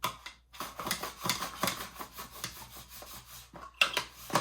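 Knife slicing pears on a cutting board for a galette, a steady series of short rasping cuts at a close, even rhythm with brief pauses.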